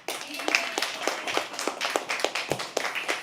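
An audience at a live poetry open mic claps in a brief round of applause, a quick dense patter of hands from a modest crowd, fairly close and steady for a few seconds.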